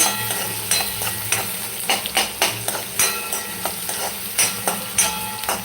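Onion frying in a pan toward golden brown while a spatula stirs, producing repeated scraping knocks in a loose rhythm over a steady sizzle.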